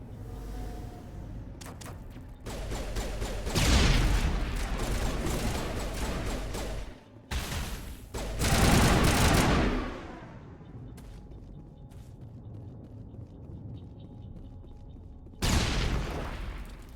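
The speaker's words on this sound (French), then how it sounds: "Ça, c'était ma grenade, apparemment." A grenade blast in Mass Effect Legendary Edition lands as a loud, broad boom amid a dense run of gunfire and combat bursts, with several heavy impacts spread through the scene.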